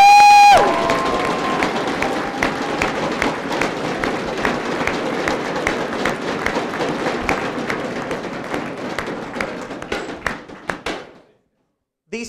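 A large audience claps and cheers at the finale of a university start-up challenge, with dense sustained applause and scattered whoops filling most of the clip before it fades out near the end.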